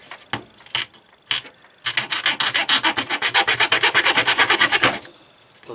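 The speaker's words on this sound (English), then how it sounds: "Still need to shave a little bit off that." Hand shaving of a small part: a few scattered scrapes, then a fast run of even, rhythmic rasping strokes for about three seconds, close and clear, ending abruptly.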